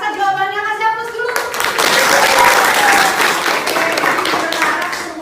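Classroom applause from students, a dense wash of many hands clapping that rises quickly after a spoken voice and stays loud and steady to the end.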